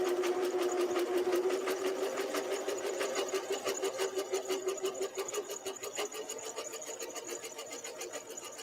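A cover stitch sewing machine stitches a T-shirt in a steady rapid rhythmic chatter close by, slowing slightly toward the end, with no voices.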